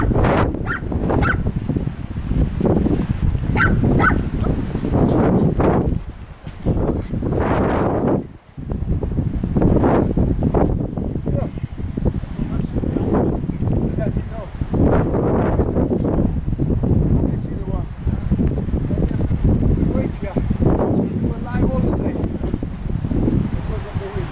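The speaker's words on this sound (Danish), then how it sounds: "Og så blæser det som en i helvede." Strong, steady wind roars across an open rocky hillside strewn with small stones, buffeting the microphone continuously, with voices faintly heard under the gusts.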